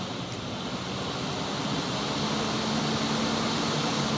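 BMW E30 auxiliary cooling fan running on its high speed setting gives a steady, even whooshing roar with a faint constant hum, heard close and alone at moderate volume.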